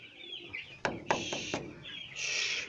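Young chicks in a poultry brooder give a few scattered high chirps and peeps over quiet background rustle, with a short cluster of sharp calls near the middle and a brighter chirping burst toward the end.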